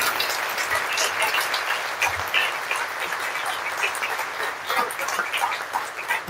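Audience clapping for the parents at a young writers' event in the Cayman Islands, a steady patter of many hands close by, lasting throughout with a voice faintly underneath.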